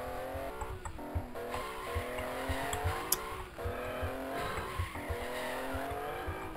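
A Ferrari race car in a racing video game revs and shifts through repeated rising engine pitches, with tire squeals over a steady, fairly quiet drone.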